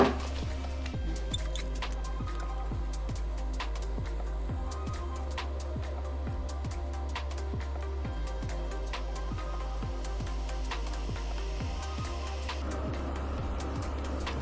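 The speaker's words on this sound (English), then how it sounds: "I can hear the water coming to a rolling simmer in a very short period of time." Water heating to a rolling simmer in a Secura stainless steel double-wall electric kettle: a steady low hum under a dense, rhythmic stream of small pops and ticks from bubbling, close and continuous, with no talking.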